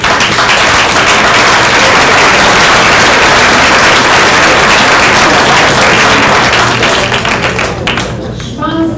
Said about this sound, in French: Je pense que les applaudissements valent plusieurs mots